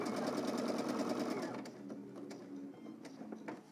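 A sewing machine runs a continuous fast stitch while sewing a curved seam on a garment, then slows with lighter intermittent whirring and ticks as the fabric is steered around the curve; close and steady, with no talking.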